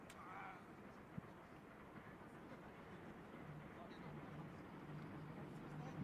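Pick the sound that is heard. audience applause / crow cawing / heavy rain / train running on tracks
train running on tracks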